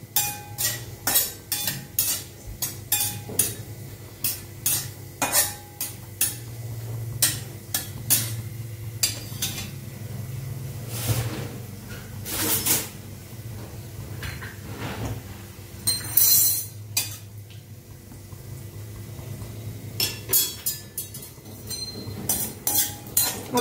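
Cashews fried in a pan and stirred until golden, with repeated sharp clinks and scrapes of a spoon against the pan over a soft sizzle, near and irregular, with no talk.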